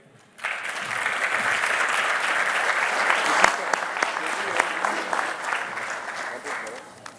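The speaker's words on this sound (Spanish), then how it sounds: "Un aplauso para Guido." An audience at a year-end dinner breaks into loud, sustained applause, a dense wash of clapping that begins abruptly and holds steady for several seconds before tapering off.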